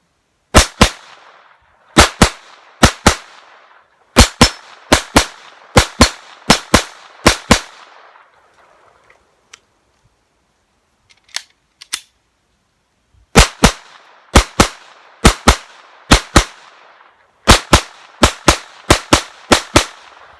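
A Taurus TX22 .22 pistol fires repeatedly outdoors as the last two magazines are emptied. The shots are loud and sharp and come in quick bursts, with a quiet gap in the middle.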